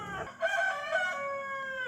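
A rooster crows once nearby in the middle of the night in Vietnam, a loud drawn-out cock-a-doodle-doo with a clear tonal tail that fades away, heard alone after a brief rustle.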